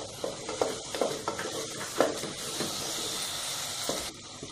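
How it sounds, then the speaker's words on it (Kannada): Coriander leaves hit a sizzling tempering in a pan for rice-rava uppittu, bringing a bright continuous hiss with a burst of crackle and several clacking stirs of a ladle, close by. "ಕೊತ್ತಂಬರಿ ಸೊಪ್ಪು ಕೂಡ ಈ ಒಗ್ಗರಣೆದಕ್ಕೆ ಆ್ಯಡ್ ಮಾಡ್ಕೊಳ್ತೀನಿ, ಹಸಿ ವಾಸನೆ ಹೋಗಲಿ ಅಂತ."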